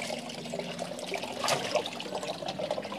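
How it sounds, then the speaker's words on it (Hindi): Water poured over a shampooed dog during a bath to rinse it clean, a steady close splashing and trickling that runs the whole time without talk. "पूरा क्लीन हो जाना चाहिए पानी डाल के"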